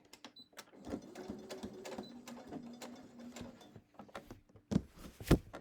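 A sewing machine runs its needle through shirt fabric while an arm band is being let out, a steady mechanical whir with quick ticking stitches, pausing and restarting, and sharper clacks near the end.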